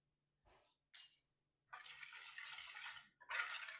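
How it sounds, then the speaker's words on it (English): Dry scone ingredients with salt, sugar, baking powder and chamomile being stirred in a bowl: a few short scraping strokes, then longer steady swishing mixing sounds, close and moderately loud. "Mix all dry ingredients really well."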